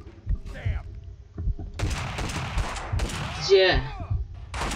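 Scattered gunshots and bursts of fire in the video game Max Payne 2: The Fall of Max Payne ring out over game noise, with someone talking briefly in between.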